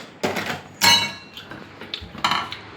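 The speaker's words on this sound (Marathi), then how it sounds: "खूप घाण हा भांडी धुतो." Steel pots and dishes being washed in a boys' hostel room, with several sharp metallic clinks and clatters in quick bursts, close and fairly loud, with no talking.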